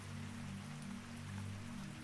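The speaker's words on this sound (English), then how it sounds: "rain continues across the museum roof" Rain falls steadily on a museum roof, a soft continuous patter with a low droning undertone, quiet and even throughout.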